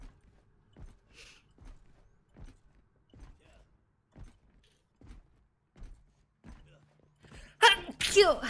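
A sudden loud sneeze bursts out at the end, after a stretch of faint, regularly spaced soft ticks and taps, during an Overwatch match.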